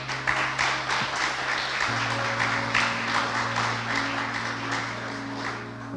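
A church congregation applauds steadily and loudly during a worship service, with a soft sustained musical tone underneath.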